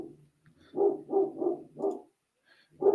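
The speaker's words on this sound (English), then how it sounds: "That's my dog. You hear that?" A dog barks indoors at someone passing outside, giving four deep, rhythmic barks in quick succession, then a short pause and another bark, moderately loud and somewhat muffled, with no talking.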